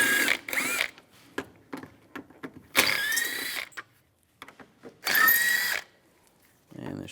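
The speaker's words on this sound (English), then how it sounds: "Now we'll take these 4 screws out, use the same T30 socket." A power tool with a T30 socket spins out cover screws on a 2004-2010 BMW X3 during intake manifold gasket work: three short whirring bursts, close and fairly loud, with small clicks and handling noises between them.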